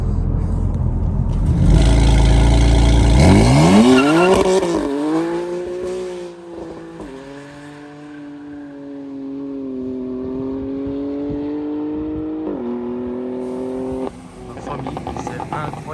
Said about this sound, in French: Je crois qu'elle a brûlé sur 200-300 mètres la voiture.